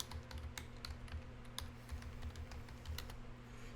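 Soft, quick keystrokes patter on a computer keyboard in an irregular typing rhythm, faint and close over a low background hum, with no one speaking.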